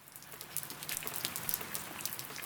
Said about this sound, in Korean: 비가 와요.